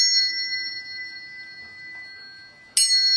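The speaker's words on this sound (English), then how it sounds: "And we've got the high frequency tones." Steady high-pitched electronic tones hold as several pure notes, fading slightly, then a sharp bright burst of tones cuts in near the end.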